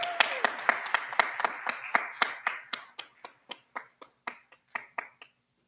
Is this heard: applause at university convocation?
yes